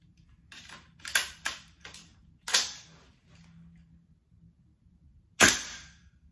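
Gas blowback airsoft rifle fired in freezing cold at about minus 14 degrees Celsius, a series of sharp snapping shots with metallic bolt clacks, several in quick succession and one final isolated shot, close by and without talk.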